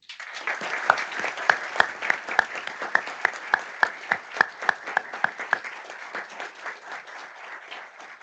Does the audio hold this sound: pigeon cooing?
no